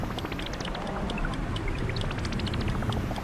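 A waterfall flowing in The Legend of Zelda: Tears of the Kingdom, a dense continuous splashing and gurgling rush of falling water with bright spattering droplets, steady and fairly close.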